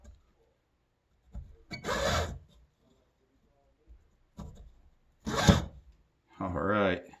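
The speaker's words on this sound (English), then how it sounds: "I guess I could sand the rest." Someone hand-sands a part of a vintage Trek bicycle being converted to a single speed, making short raspy scrubbing strokes in separate bursts with quiet gaps between them.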